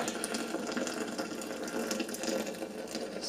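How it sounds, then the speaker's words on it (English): Hot water streams steadily from a Stagg EKG kettle into a Clara French press, a continuous close splashing pour that holds even from start to finish. "let's go ahead and pour in our hot water"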